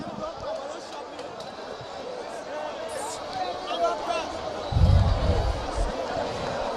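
Large crowd at a county football grand final medal presentation ceremony, a steady dense roar of voices and chatter with a louder low surge of noise near the end.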